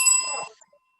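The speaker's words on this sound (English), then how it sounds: "And here's our closing bell." A single bell strikes once as a closing chime, bright and ringing, then decays quickly into silence within about half a second.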